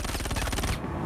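A short, fast burst of automatic gunfire in a shooter video game, loud and evenly rhythmic, cutting off toward the end of the second-long stretch.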